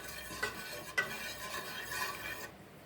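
A spoon stirs a coconut punch mixture, scraping steadily in a bowl with two sharper knocks near the start, then falls quiet just before the end.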